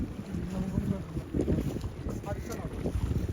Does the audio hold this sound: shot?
no